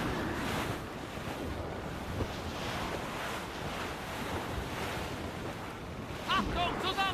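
Wind and surf roll steadily around a sailing ship at sea in the video game Assassin's Creed Rogue, a continuous loud wash of waves and gusts with brief ringing tones near the end.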